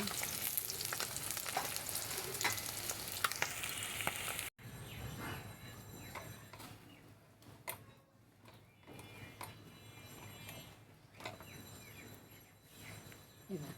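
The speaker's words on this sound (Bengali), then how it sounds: "কি সুন্দর করে তেল ছিটছে" Steady crackling sizzle of singi fish frying in hot oil, with sharp spattering pops throughout, loud at first and then settling into a quieter frying hiss.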